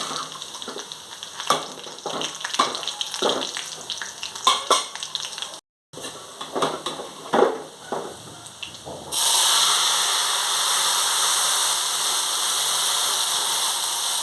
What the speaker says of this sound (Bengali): দিয়ে দিচ্ছি রসুন তাদের রসুন না দিলে ভালো লাগে না লাল হয়ে যাচ্ছে